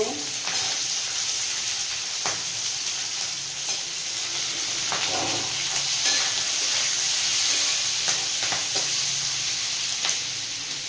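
Chopped onion hits a hot pan while cooking chilli paneer, setting off a steady loud sizzle and hiss with occasional stirring scrapes throughout, and no talking.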